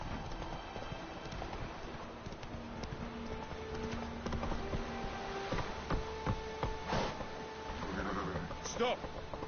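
Hooves of Roach, a horse in The Witcher 3, clip-clopping steadily through a game scene over a low hum, with a voice talking briefly near the end.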